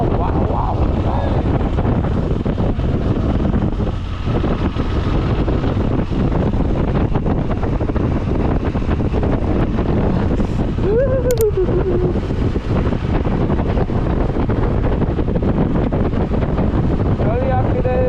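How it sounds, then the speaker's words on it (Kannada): Loud, steady wind buffeting roars across the microphone throughout an early-morning motorcycle ride to Malalli Falls near Somwarpet. It stays constant from start to finish, with brief voices faintly audible beneath it. "ಗಾಳಿ ಆಗ್ತಿದೆ."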